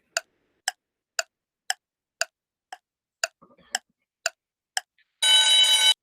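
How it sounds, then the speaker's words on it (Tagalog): A timer ticks in steady, evenly spaced clicks about twice a second, loud and alone, then a harsh buzzing alarm bursts out at the end. "let's start the timer"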